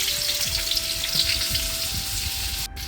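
Chopped ginger, green chili and garlic fry in hot coconut oil in a pan for Kerala chicken curry. There is a steady, close sizzle and crackle with the occasional stir, and a short sharp knock near the end.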